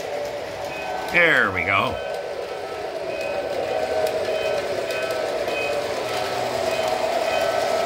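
A model train runs laps on a wall-mounted layout, a steady rolling rumble and hum continuing throughout, with a brief voice and a short warbling tone near the start.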